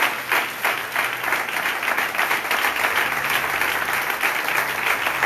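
Congregation at a praise and worship service clapping and cheering in acclaim, a dense steady wash of applause with crowd voices, sustained and loud throughout.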